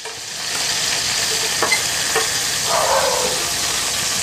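Chopped green chilies and garlic fry briskly in hot oil for a jute greens dish, a constant close sizzle broken by a few short spatula scrapes as the pan is stirred.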